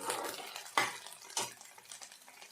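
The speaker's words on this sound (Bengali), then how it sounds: "আদা রসুন মিক্স পেস্ট দিয়ে দেব। ভালো করে নাড়াচাড়া করব।" A spoon stirring ginger garlic paste in a cooking pan, heard as quiet scraping and a few clinks of utensil on metal over a faint background hiss.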